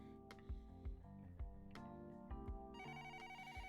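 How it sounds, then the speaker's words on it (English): A telephone rings in a video game, repeated electronic ring bursts with tonal chimes and ticking percussion beneath, fairly faint and alone without talk. "I reached for the phone that was ringing"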